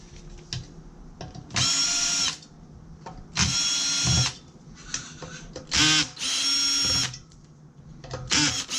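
A power screwdriver whirs in short, loud bursts while backing screws out of heat sinks on a remote radio unit during a teardown, with quieter clicks and handling noises in the pauses between runs.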